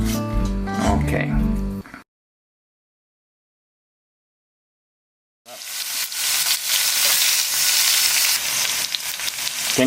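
Veal sears in a pan with a loud, broad hiss of frying. It follows a short burst of voice and another sound, broken by a silent gap.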